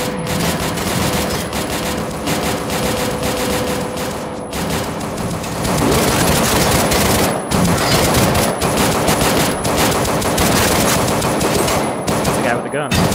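Sustained automatic gunfire from the shooter game Paranoia 2: Savior rattles almost nonstop, dense rapid bursts with brief gaps, loud and close.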